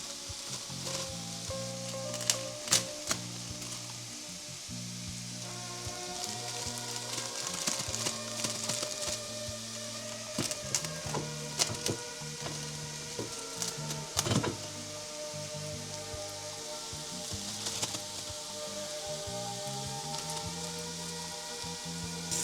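Cooked rice tipped into a pot greased with butter, sizzling and frying steadily with occasional sharp clinks and scrapes of utensils against the metal, close and fairly loud with no talking.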